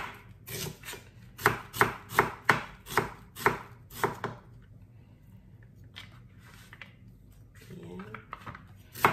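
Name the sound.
slicing onion on a board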